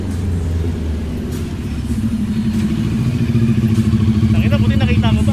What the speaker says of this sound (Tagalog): naririnig ko na. Tunog na, kanyang motor.